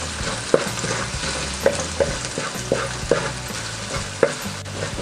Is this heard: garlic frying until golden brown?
yes